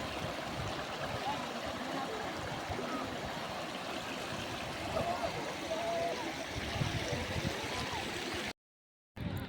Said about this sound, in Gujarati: હાલો મિત્રો તો અમે જમજીના ધોધે આવી ગયા